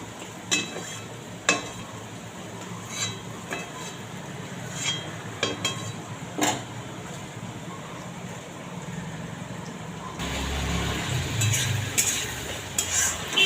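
Spice paste with poppy seed and cashew being sautéed in a pan for a vegetarian pointed gourd dish, with soft sizzling and intermittent spatula clinks and scrapes, close and steady.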